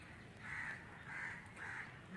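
A crow at Patna Zoo caws three times in a steady rhythm, each call harsh and moderately loud, set against a constant background hum of the zoo grounds.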